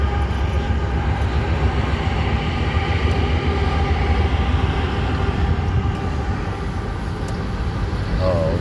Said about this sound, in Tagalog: Ayan na naman tren.